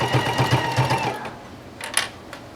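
A sewing machine runs briefly while stitching a patch onto a letterman jacket sleeve, giving a short, close whir with fast regular pulses that stops after about a second, followed by faint handling noises.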